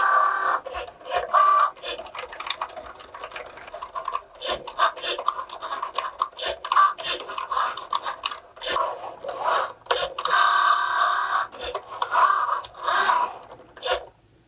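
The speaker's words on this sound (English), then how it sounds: "And then we'll just drop our blade into the clamp and press go in Cricut Design Space." Cricut Joy cutting machine running its blade through a card on a mat, a close, irregular stream of scratchy scraping and clicking movements with brief pauses, no talking.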